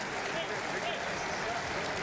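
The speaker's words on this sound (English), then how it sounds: "and a good hand here for Kevin Calhoun" A crowd at a 2013 K-State versus Troy college basketball game applauds an injured player, a steady, even wash of clapping filling the arena at moderate distance with no clear peaks.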